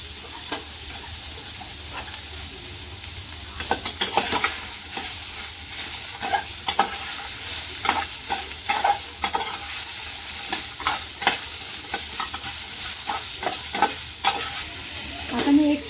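Amla chutney ingredients sautéing in a little oil on a gas stove, a steady close sizzle broken by repeated scraping strokes of a ladle stirring the pan, with no talk.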